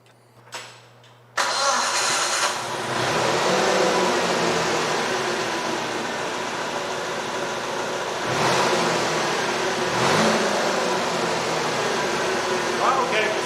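An old TCM forklift with no brakes cranks briefly, catches and settles into a steady, loud mid-pitched running drone. The engine swells twice as it is revved and driven, close up with no talk.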